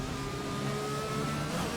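Race car in a driving video game accelerating hard toward 200 km/h, a steady sustained engine roar with rising tonal whine, loud and continuous with no pauses.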